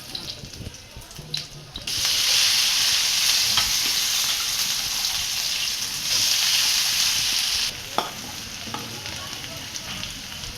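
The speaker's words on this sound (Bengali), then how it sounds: "তেলের মধ্যে পেঁয়াজ দিয়ে দেওয়া হয়েছে" Onions frying in hot oil in a Bengali home kitchen, a loud steady sizzle that swells from about two seconds in and runs near-continuously, with brief clatter and quieter moments at the start and end.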